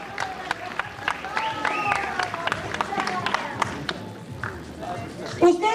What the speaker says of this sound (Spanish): Dale el aplauso fuerte para esta destacada mujer guapísima.